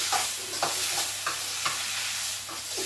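Tomato pieces frying in a pan for tomato rice, a steady close sizzle broken by a rhythmic series of stirring scrapes, with no talking.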